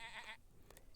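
A sheep bleats once in the Super Auto Pets video game, a short wavering cartoonish cry at the very start, followed by a couple of faint clicks.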